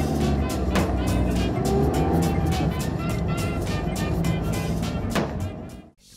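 A Playmobil prisoner transport vehicle pulls away with a steady motor-like rumble and rhythmic ticking, fading out at the end; a voice speaks over part of it.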